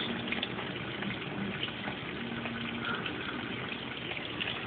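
A Brastemp Baby Mondial washing machine fills with water during its cycle, a steady, even rushing hiss that runs unbroken and fairly close, with no voices.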